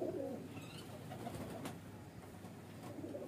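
A highflyer baby pigeon cooing faintly in a quiet space, soft low murmurs with a brief chirp, heard alone at a low level.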